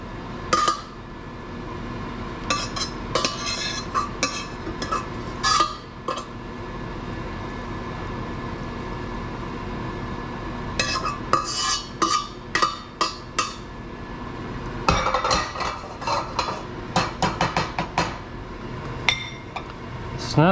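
A big spoon scrapes and clinks against a metal pot while Shin Ramen with beef and bok choy is cooked. Irregular metallic clinks and scrapes come in clusters over a low steady background hum.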